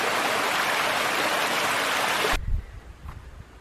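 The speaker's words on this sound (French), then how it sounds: "il y a plein de petites cascades comme ça, qui descendent de la montagne" A small mountain waterfall cascades into a lake with a steady, dense broadband rush that cuts off abruptly partway through, leaving a low rumbling wind-like background.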